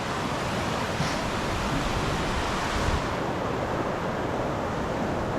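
A creek flows steadily beside a riverside campsite at Kootenai Creek, a constant, broadband rushing wash close to the microphone with no talk.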